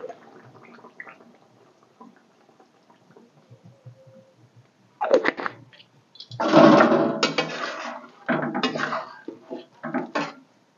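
Garam masala is stirred into a chela fish curry with elephant foot yam in a pot with the gas off. Soft scrapes come first, then louder bursts of spoon scraping and clattering against the pot.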